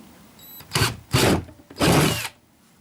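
Power drill fitted with a 7.5mm bit boring into a kayak hull, three loud whirring bursts of rising length separated by short pauses, close by with no talk.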